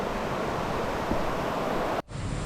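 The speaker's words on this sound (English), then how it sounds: "It's a river, more like a rapid." River rapids near Uvita, Costa Rica, give a steady, loud, broadband rush of water that continues without pause before a brief cut and returns.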